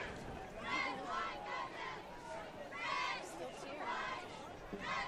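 A crowd in the stands at a high school football game between Richmond and Connersville gives off a steady murmur with swelling cheers and shouts from a student section, heard under a commentator's voice.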